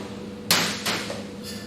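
An egg cracked on a hard edge and dropped into a bowl: one sharp close tap, then a shorter second knock and a faint splash, with no talk.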